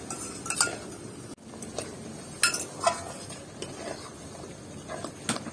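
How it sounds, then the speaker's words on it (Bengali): A spoon mixes whisked sour yogurt into a cooked spice masala for dhaba-style paneer, giving faint, scattered clinks and soft scraping taps against the pot over a low background hiss. "টক দইটা মশলার সাথে ভালো করে মিশিয়ে নেব।"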